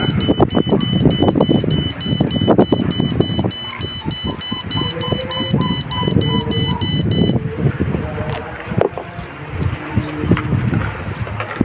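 A homemade smoke-sensor fire alarm with an LED loop lets out a loud, continuous high-pitched buzzer tone for about seven seconds, then cuts off. A voice talks over it and keeps talking afterward.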